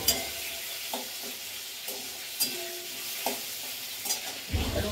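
Greens with garlic being stir-fried in a pan: a steady sizzle with a spatula scraping and stirring in a few sharp strokes, close and alone with no talk.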